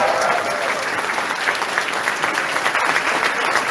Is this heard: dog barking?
no